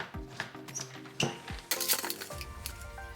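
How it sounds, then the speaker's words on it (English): Plastic lid twisted and screwed tightly onto a blender jar filled with pineapple, carrots, lemon, ice and water, giving a few close clicks, knocks and scrapes in quick succession. "Screw that lid on really tight."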